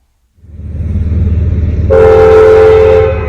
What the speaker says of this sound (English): Another plus point of traveling all day is getting to see a train.